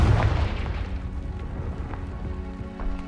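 A Confringo blast spell detonates in Hogwarts Legacy, a heavy booming burst at the start that fades into a low rumble and lingering magical ringing with scattered debris crackle.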